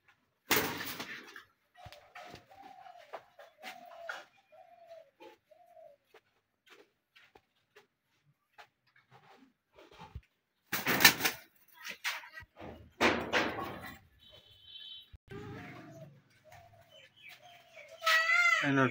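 Pigeons coo in a series of soft, separate low calls with quiet gaps between them, close by, while people talk briefly and short handling noises break in.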